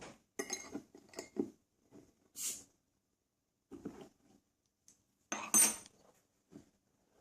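Clinks of glass and a metal cap, then two short, sharp fizzing hisses as a bottle of homemade double chocolate stout, brewed with 85 to 90% cocoa chocolate, is cracked open, set apart by quiet gaps.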